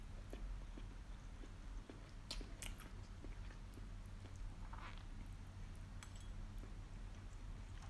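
Someone eating homemade spaghetti bolognese, soft close-up chewing and biting with a few light clinks of cutlery against a plate, no talking.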